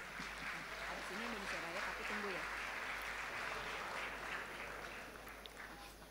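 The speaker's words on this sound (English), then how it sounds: "let's give a round of applause to their excellencies" A round of applause fills a formal opening ceremony for officials in Indonesia, steady broadband clapping from a large audience, with a voice speaking briefly over the start before the clapping tapers off.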